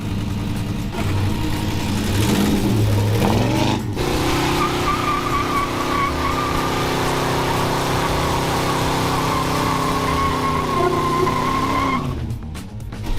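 A 70-year-old car with a carbureted LS engine revs hard. A loud, sustained engine roar rises in pitch and then holds, with a tire-squeal-like whine over it, before it cuts off near the end.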